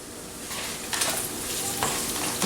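Sausage sizzles in a pan while milk is stirred in nearby. There is a continuous close frying hiss with a few brighter spatters and scrapes, and no talking.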